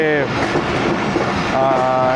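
A passenger train on the line toward Qila Sheikhupura Junction runs along the rails with a steady, loud rumble and clickety-clack of the wheels. Harmonic tones rise briefly at the start and near the end.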